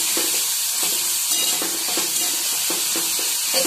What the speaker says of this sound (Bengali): এটা নরম হওয়া পর্যন্ত আমি ভাজবো